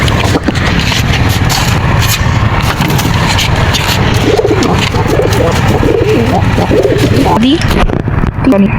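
Pigeons coo in a busy, noisy setting, their low murmuring calls running steadily under a voice and background rumble.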